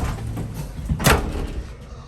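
The door of a Waupaca hydraulic home elevator opens with a brief clunk and sliding rush against a steady background hum.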